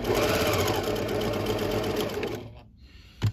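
A sewing machine runs steadily, stitching a quarter-inch seam along a fabric face mask with an origami nose pleat, then stops about two and a half seconds in, followed by a brief knock.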